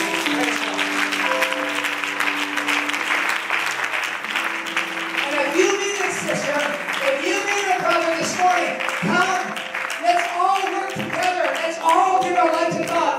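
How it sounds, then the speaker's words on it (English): Church congregation clapping during a morning worship service, a dense, steady wash of applause that carries through the whole stretch, with sung or chanted voices and music rising over it in the second half. "Can we clap on the Lord this morning?"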